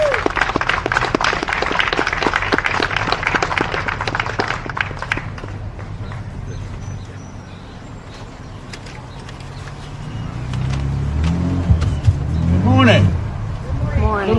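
Applause from the audience at an outdoor July 4 time capsule ceremony in Westerly, Rhode Island, a dense patter of clapping that fades after several seconds into a quieter stretch and then talking.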